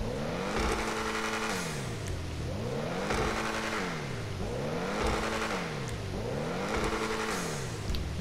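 Ocelot XA-21 supercar in GTA with turbo fitted, its engine revving up and down repeatedly in four steady rising-and-falling sweeps, close and continuous with no talk.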